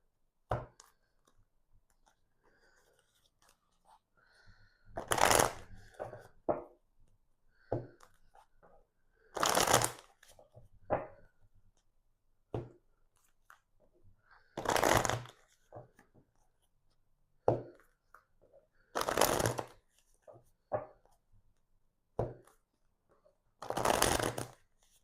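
Tarot cards being shuffled in repeated bursts roughly every four to five seconds, each a brisk riffling flutter, close and fairly loud, with faint taps and card handling in the quiet gaps between.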